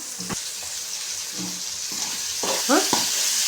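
Tomato curry with turmeric sizzling in a pan while being stirred, a soft constant fry with a few scraping stirs, near and moderate in level, no talking.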